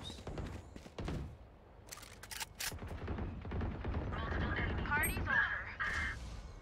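Gunfire in an online tactical shooter match arrives as a few sharp, close bursts of shots in the middle, surrounded by steady talking from players.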